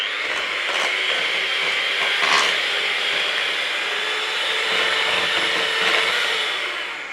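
An electric mixer giving sponge cake batter of flour for a jam and coconut sponge a quick blend in a bowl, a steady loud whirring drone held without a break, close, with no talking.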